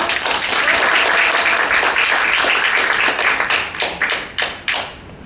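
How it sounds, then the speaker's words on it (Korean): Loud, dense audience applause greets a guest speaker at a Korean parents' association event. The clapping is steady, then thins into a few scattered, sharp final claps before fading. "큰 박수로 함께 해주십시오."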